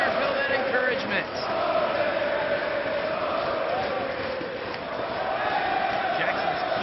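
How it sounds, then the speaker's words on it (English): At an indoor pro wrestling tag team match, the crowd sings a sustained, rhythmic "Ole" chant in encouragement of a masked wrestler, a broad, reverberant roar of many voices that stays steady throughout, with a commentator talking over it. "this crowd chanting "Ole," giving El Generico that encouragement"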